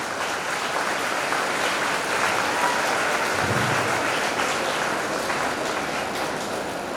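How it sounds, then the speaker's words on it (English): Steady, dense clapping from a crowd at an Independence Day celebration fills the whole stretch, loud and even, with no pauses. "A round of applause for the music teacher too."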